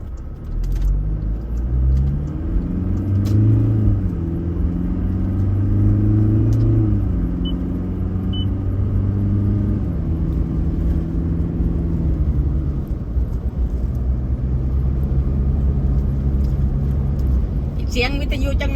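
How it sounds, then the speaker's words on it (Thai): Car engine droning steadily while driving at moderate speed along a road in Thailand, near Sa Kaeo heading toward Korat; harmonic engine tones shift with gear changes, and people talk over it throughout. "ก็ขับมาเรื่อยๆแต่ว่าบ่ได้ขับเร็วเนาะ"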